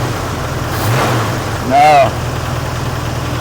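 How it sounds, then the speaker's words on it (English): A car engine idles under the hood with a steady low hum, then revs briefly and rises in pitch before settling back. A person speaks briefly. "Just rev it up a little bit."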